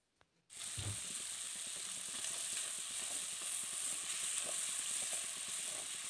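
Prawns frying in oil in a pan give a steady, even sizzle that starts abruptly and then hisses on without a break, close and fairly quiet.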